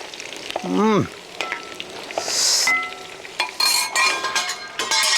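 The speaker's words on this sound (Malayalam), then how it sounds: "നമ്മുടെ ചിക്കൻ ഫ്രൈ ആയിട്ടുണ്ട്" Chicken 65 fries in hot oil with curry leaves, restaurant style. A steady close sizzle is broken by clinks and scrapes of a utensil against the pan.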